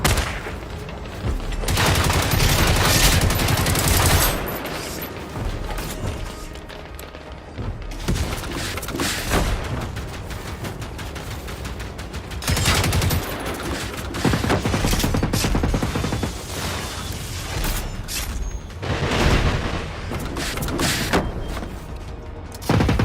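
Sustained gunfire in the video game Generation Zero, with dense bursts and heavy thuds layered over one another at steady loudness through the whole stretch, plus a few booming impacts and no talk.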